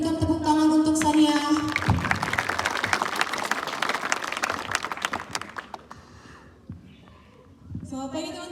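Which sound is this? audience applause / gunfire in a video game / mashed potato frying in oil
audience applause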